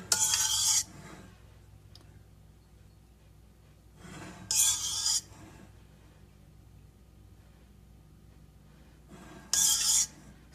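A spoon scrapes and spreads hardened soap base in a pot in three short, rasping bursts spaced several seconds apart, close and fairly loud, with quiet pauses between them.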